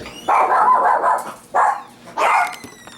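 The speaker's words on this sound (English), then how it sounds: "the dogs were barking because I had someone come to the door" Dogs barking at someone at the door, three loud close barks in an uneven rhythm with short pauses between them, heard without talk.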